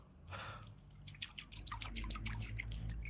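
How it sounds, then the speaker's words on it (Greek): An artificial fishing lure wobbling side to side through the water, producing a quiet run of rapid splashy drips and sloshes close by, with no talk. "μετατοπίζει νερό αριστερά και δεξιά"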